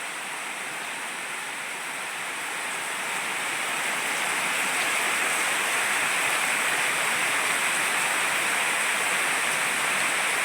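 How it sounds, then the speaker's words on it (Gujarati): Rain falling steadily in a village where cows have come home, a dense, even hiss of rainfall on surfaces that swells slightly louder after the first few seconds and then holds constant, with no voices. "વરસાદ મંડાણો છે આજે."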